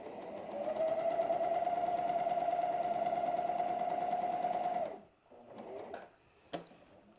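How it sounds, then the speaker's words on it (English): Sewing machine stitching fabric in a steady continuous whir for about four seconds, then stopping, followed by a few soft handling clicks and taps. "I'm just going to sew this right on up to the end and then trim it"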